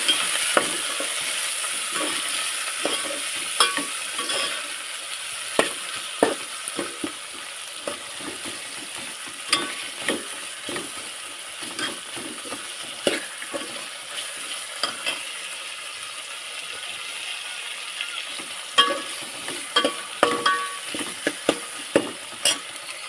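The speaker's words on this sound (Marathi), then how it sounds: "मिरची तांबटर बघा परतून घेते त्याला" Chili and tomato sautéing in a pan with a steady bright sizzle and crackle, broken by repeated sharp scrapes and clicks of a spatula stirring, close by and with no talking.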